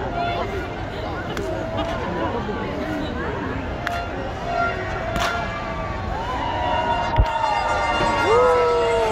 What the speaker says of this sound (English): Fireworks are pretty cool though.